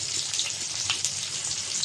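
Nola fish fries in a pan with a steady, close hiss and sizzle, faint but continuous, with no talk over it.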